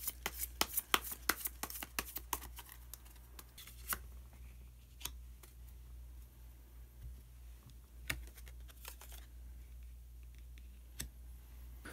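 Tarot cards being shuffled and drawn by hand, a run of crisp clicks and riffling snaps, dense at first and then sparser single card taps over a quiet room background, with no voice.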